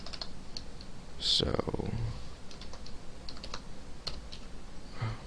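Rapid tapping on a computer keyboard while code is typed, the keystrokes coming in uneven bursts under a man's speech.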